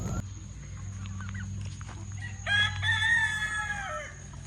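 A rooster crows once, loud and drawn out, over a low steady hum and scattered soft clucks from a flock of chickens nearby.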